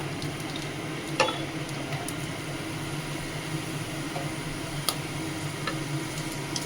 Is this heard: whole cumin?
yes